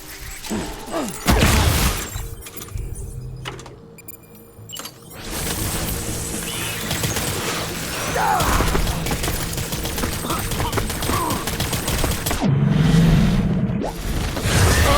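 Rapid bursts of gunfire and sharp crashing impacts in the video game Death Stranding, loud and dense, with whooshes and a heavy mechanical backdrop running almost continuously.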